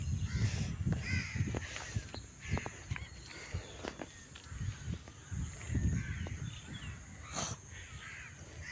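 Crows cawing repeatedly nearby, harsh calls coming in irregular bursts over quiet outdoor background noise.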